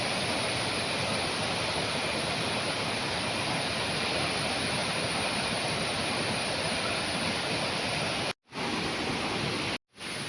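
A river flows through forest in a dense, steady rush of water that stays loud and even throughout, broken only by two brief dropouts near the end.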